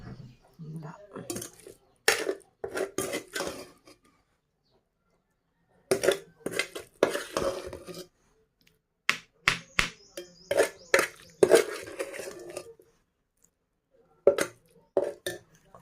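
Stone mortar grinding ivy gourd and tomatoes for a chutney, with repeated clacking and scraping strokes in short bursts separated by pauses, close and fairly loud.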